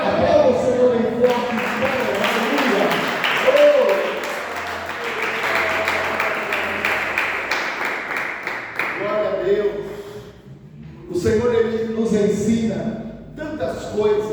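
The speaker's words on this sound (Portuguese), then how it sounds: "Aplauda o Senhor em forte" Church congregation applauding at a Sunday service, broad sustained clapping mixed with loud voices, shouts and music throughout, dipping briefly before picking up again.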